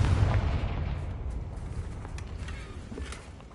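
A Confringo fire spell bursts in Hogwarts Legacy, one heavy booming blast up front that fades into a rumbling tail, fairly near and filling the whole short stretch without any talk.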